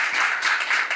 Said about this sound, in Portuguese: salva de palmas aí para vocês!